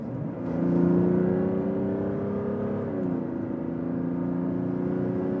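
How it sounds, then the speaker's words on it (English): A Mazda CX-60 with an all-wheel-drive compression-ignition six-cylinder accelerates hard in sport mode from 80 to 120 km/h on a slightly uphill motorway, its engine drone climbing in pitch, dipping briefly at a gear change, then climbing again. "Motorway driving, 80 to 120 kilometers an hour in the sport mode"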